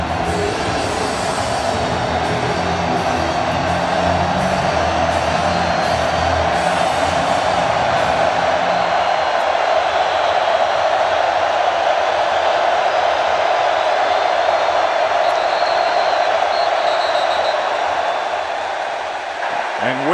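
Stadium crowd roars at a Texas versus Arkansas college football game on a third down, a loud, sustained wall of cheering and noise that holds steady throughout.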